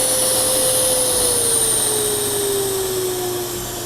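A steady, loud rushing roar of a Festool CT26 dust extractor at high suction, with a high whine and a tone that slowly drops in pitch, easing slightly near the end.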